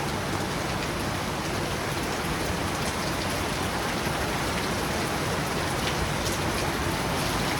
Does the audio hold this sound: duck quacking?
no